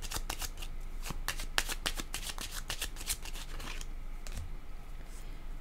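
Tarot cards shuffled by hand, a quick series of crisp riffling flicks close up, repeating in a steady rhythm for about four seconds before settling into quiet.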